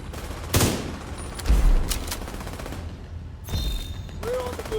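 Gunfire from a shotgun sniper rifle in a video game, with a few loud booming shots spaced about a second apart over a constant background hum and game sounds.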